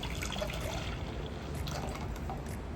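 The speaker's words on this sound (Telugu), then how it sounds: "సో ఈ వాటర్ ఇప్పుడు బౌల్లో పోసేసుకుందాం." Water with ground mint is poured into a bowl, giving a steady close liquid trickle and splash that runs for the whole few seconds without a break.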